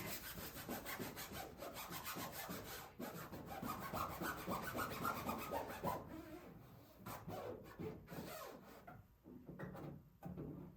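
Military marking decal rubbed onto the side of a vehicle, a continuous close scraping and rubbing with rhythmic back-and-forth strokes, easing off and becoming more intermittent toward the end.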